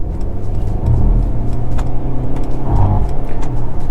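A 2022 Mercedes-Benz CLS 220d AMG Premium facelift diesel with 9-speed gearbox accelerates hard in sport mode to overtake, a loud steady engine rumble building from inside the cabin, with no talk.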